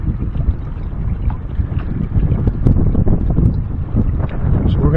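Steady wind buffets the microphone throughout, a continuous low rumble with gusts swelling and easing, outdoors near open water by a trimaran on a river.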